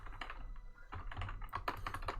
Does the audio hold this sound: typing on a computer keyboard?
yes